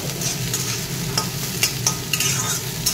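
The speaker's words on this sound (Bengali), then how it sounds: "এবার পেঁয়াজটা ভালো করে ভেজে নেব।" Onions fry and get stirred in an iron wok: a steady close sizzle with repeated scraping stirs throughout, no talking.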